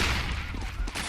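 Rapid SMG gunfire in a Counter-Strike match on the Overpass map, a dense burst of shots crackling over steady game noise and low crowd or caster murmur throughout.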